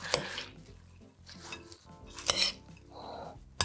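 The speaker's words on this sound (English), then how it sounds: "And now we'll give this a nice mix." Coleslaw being tossed with dressing in a bowl for a no-mayo recipe, giving scraping, clinking utensil-against-dish sounds and soft wet rustling of shredded vegetables in irregular bursts, close up with no talking.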